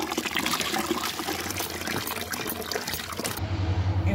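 A broom being swished and rinsed in a bucket of water at home, with continuous sloshing and splashing, steady and close, no voices.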